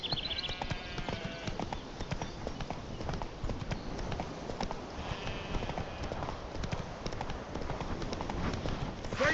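Hooves of Roach, Geralt's horse in the video game The Witcher 3, trot in a steady, continuous clip-clop rhythm for the whole stretch, fairly close and even in loudness, with no voices over it.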